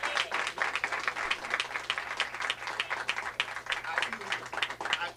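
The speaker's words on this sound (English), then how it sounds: "let's give Brother Malik a hand clap." A crowd at a tribute gathering claps in a steady, moderately loud burst, individual hand claps distinct within the applause, with a low hum underneath and voices mixed in.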